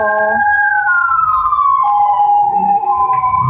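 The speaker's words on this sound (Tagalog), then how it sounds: "ayan na po ang mga ambulansya." Ambulance sirens wail loudly and close by, a steady rising and falling tone sweeping downward as the vehicles pass, with faint background noise from a kitchen where food is being prepared.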